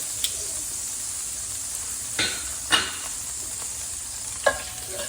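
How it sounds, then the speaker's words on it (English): Butter sizzling in hot fat in a pan for slow-cooker jugged hare, a steady close hiss with a few sharp spoon scrapes or stirs, no talking. "I'm just going to add a couple of tablespoons of butter to the fat."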